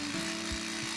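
A cordless masonry drill, the Dong Cheng DCZC04-24, boring into a hard piece of concrete, giving a steady close whine with a low grinding rumble that surges in brief pulses as the bit bites.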